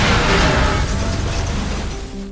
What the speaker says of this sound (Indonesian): Ledakan tersebut membuat menara roboh